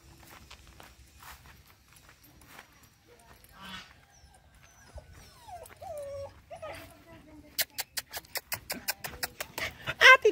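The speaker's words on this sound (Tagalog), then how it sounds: "Kanyang mga aso." Dogs at an old family house whimpering and shuffling about, with soft scattered whines early, a brief human voice, then a quick run of sharp, rhythmic yelps or pattering steps growing louder toward the end.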